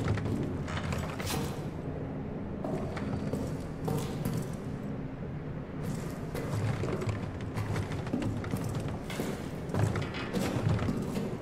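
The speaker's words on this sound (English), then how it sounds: "I think it's all this wood banging around" Wood bangs and thuds around in Amnesia: The Bunker, repeated irregular knocks and bumps close by against a dull ambient background.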